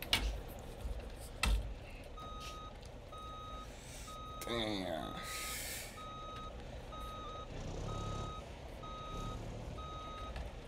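Truck reversing in the BeamNG driving game, with a steady train of evenly spaced backup beeps running alongside engine rumble and an air-brake hiss partway through; a voice speaks briefly.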